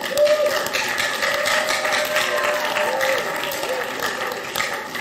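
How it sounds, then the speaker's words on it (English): Scattered clapping from part of a church congregation during a Sunday service on love and marriage, a dense broadband patter running steadily under a murmuring room with faint voices. "Only some people are clapping for me."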